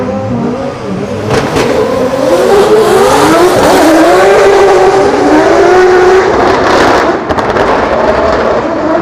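A drift car at Drift Masters practice in Germany revs hard. The loud engine note rises and falls in sweeping pitches, with brief crackles and some tire noise, and no talking.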